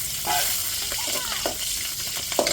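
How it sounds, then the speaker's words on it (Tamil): Curry leaves sizzle in hot oil while tempering for rasam: a steady crackling fry with sharper pops and a few stirring scrapes, close and moderately loud. "கருவேப்பிலை சேர்த்துக்கிடுவோம்."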